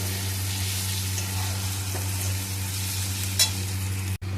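Chicken curry with turmeric is stirred in a pan, a steady sizzling fry under a low cooking hum, with a utensil scrape near the end and a brief knock just after.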